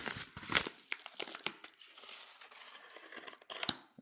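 Sharp scratchy crinkling of paper dragged across sharp guitar fret ends, several quick rasping strokes up close, with no one talking.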